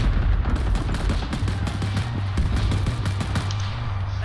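Covering gunfire in the Vietnam-era shooter Rising Storm, Attack on Saigon: a loud, dense run of rapid shots and booming reports, fairly close, continuing without pause for several seconds.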